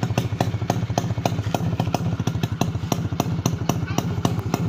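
A 1998 HD3 motorcycle engine warming up outdoors, its steady rapid put-put idle firing in an even rhythm, close and loud throughout.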